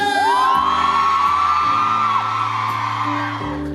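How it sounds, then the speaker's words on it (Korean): Whooping and shouting from a concert crowd at the national cemetery's regular outdoor concert, cheering loudly and steadily for a military band, with a rising whistle-like cry and sustained musical tones underneath. "우리 군악대대를 위해서 힘찬 함성 소리 질러"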